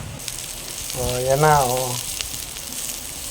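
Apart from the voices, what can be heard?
sautéing onion and aromatics sizzling in a pan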